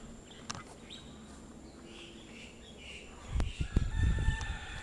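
A rooster on Rarotonga in the Cook Islands crows faintly amid outdoor ambience, followed by louder close bursts of clucking or scuffling fowl near the end.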